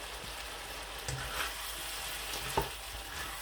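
Potato bhujia with garlic, green coriander and chillies being stirred in a frying pan: a steady low sizzle with a few soft spoon scrapes and clinks, close and fairly quiet.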